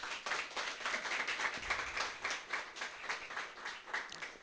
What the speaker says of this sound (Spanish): Brindémosle una ofrenda de palmas al Señor